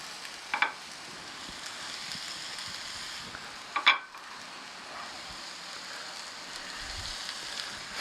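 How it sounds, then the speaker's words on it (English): Hash browns fry in hot oil for chorizo breakfast burritos, giving a steady, soft crackling sizzle throughout, with two brief sharper scrapes of stirring near the start and middle. "Hear that sizzle happening."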